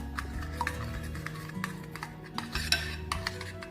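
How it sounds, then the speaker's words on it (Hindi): A utensil stirs spices and ginger garlic paste into yogurt in a bowl, giving repeated close scraping and light clinking strokes in an uneven rhythm, with no talking. "दही के अंदर हमने तमाम मसालादार शामिल कर दिए, लहसुन अदरक का पेस्ट भी, तमाम मसालादार। इसको अच्छी तरह से मिक्स करेंगे।"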